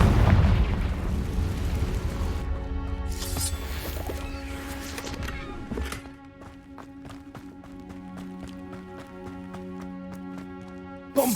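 A Confringo fire spell explodes in a Harry Potter video game: a loud, rumbling blast opens, then scattered bursts follow, settling into a steady run of rapid, rhythmic clicks.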